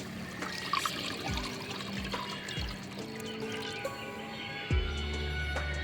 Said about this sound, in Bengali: এই যে এখানে আমি এখন দুধটা দিয়ে দিব। দুধটা দিয়ে আমি চাউলটা সিদ্ধ করতে দেব।